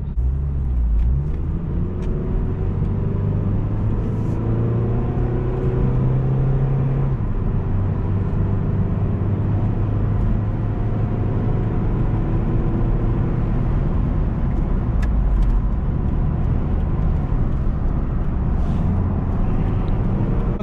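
A 2012 Mitsubishi Eclipse Spider GS engine hums and rumbles steadily from inside the car, rising slightly in pitch as it picks up speed, with no talking.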